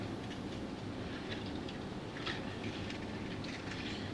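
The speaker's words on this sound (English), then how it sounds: "see the steel train with a couple of those cars, the coil cars especially" A model steel train with coil cars rolling along a layout, a steady low rumble with faint clicking wheel sounds, close and continuous, no talk.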